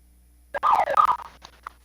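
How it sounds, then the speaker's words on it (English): A home security alarm goes off, a short burst of loud, warbling electronic tones that jump around in pitch for about a second, then trail into a few faint blips. "that's my alarm"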